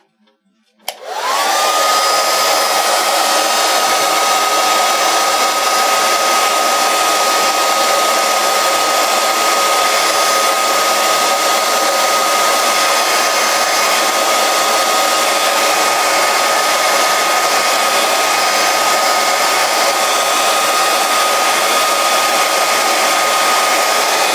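A hair dryer dries a painted wide fashion belt, switching on after a second of near-silence and then blowing with a loud, steady whirring whine for the rest of the time.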